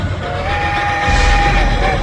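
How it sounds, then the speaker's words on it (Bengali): A train rumbles steadily and grows louder, a deep low roar building under a sustained high whistle-like tone, with no voices. "নিঃশব্দ রাতের শান্তি ভঙ্গ করে গম গম করতে করতে ছুটে আসছিল ট্রেনটা"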